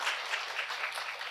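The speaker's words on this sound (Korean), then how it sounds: "큰 박수 부탁드립니다" An audience at a human resources development conference keynote applauds: a soft, even wash of many hands clapping, distant and faint, with no distinct voices.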